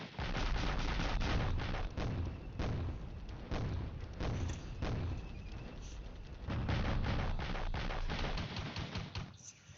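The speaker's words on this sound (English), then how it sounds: "mortars doing counter battering." Mortars fire counter-battery barrages in a combat simulation game, with repeated heavy booms and thumps rolling one after another over a dense, continuous battlefield roar, loud and sustained throughout.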